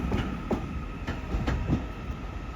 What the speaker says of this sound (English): Look at that, 4 trains in one.